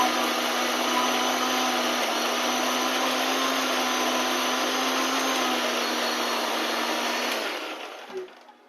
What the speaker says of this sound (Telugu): మసాలా అయితే మిక్సీ పట్టేసానండి.